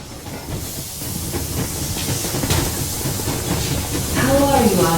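Steam train running in the video game Metro Exodus: a steady, loud hissing rumble with faint clatter throughout, and a voice rising briefly near the end.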